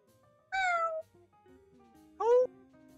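Two clear, close cat meows about two seconds apart, the second shorter and higher, in an otherwise quiet room.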